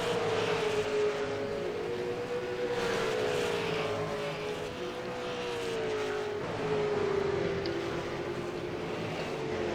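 V8 Supercar race cars battling on track in a 2016 Americas series round, engines droning continuously with pitch sweeps as cars shift and chase, a steady loud roar throughout.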